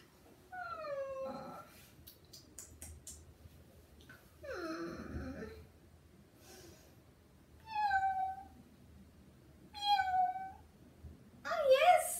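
A young child imitates a cat, giving three short, rising-falling meows spaced a couple of seconds apart, with other children's voices and classroom chatter in between.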